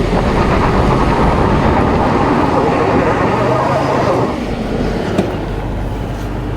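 A Toyota Sequoia Platinum, a non-TRD Pro trim, climbs a steep off-road incline in two-wheel drive with traction control off. Its engine gives a loud, steady, close rumble that eases slightly near the end.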